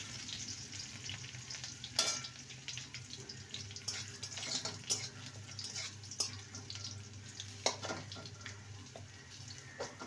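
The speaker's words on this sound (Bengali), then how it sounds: "রসুনটাকে হালকা ভেজে নেব।" Crushed garlic sizzles in hot mustard oil in a pan, a steady close crackle broken by a few sharp clinks and scrapes of a stirring spoon, with no voices.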